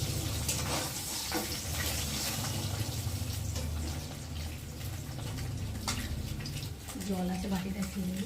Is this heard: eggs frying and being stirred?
yes